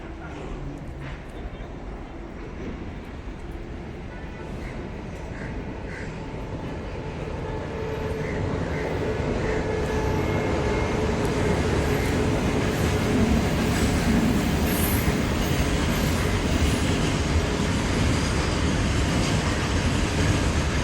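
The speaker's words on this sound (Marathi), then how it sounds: "आज आता ट्रेन जाईल" A train passes close by in the countryside, its rumble and wheel clatter swelling over the first several seconds to a loud, sustained roar, with voices talking faintly beneath.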